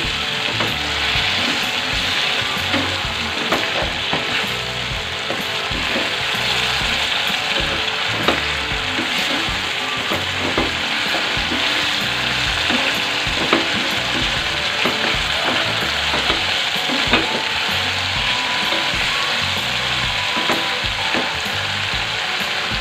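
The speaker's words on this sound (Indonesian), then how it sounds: "Aduk sampai rata, lalu masak terus sampai airnya menyusut" Chicken skin cooks in a pan with a little water, giving a steady, loud sizzle and bubbling with scraping and clicking stir strokes throughout, and no talking.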